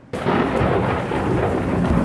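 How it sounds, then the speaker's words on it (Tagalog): Heavy rain pours down on an open field during a storm, a loud, steady broadband roar with rumbling thunder underneath, beginning abruptly after a brief quiet moment and holding constant throughout. "bumuhos ang malakas na ulan sa bukid."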